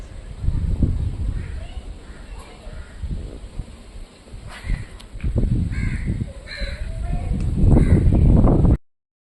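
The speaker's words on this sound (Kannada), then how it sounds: "ಗಿಡುಗ ಮತ್ತು ಕಾಗೆಗಳು ತುಂಬ ಇದ್ದಾವೆ" Crows caw repeatedly in the open, several loud harsh calls spread through the clip, with kites flying overhead and faint background noise between calls.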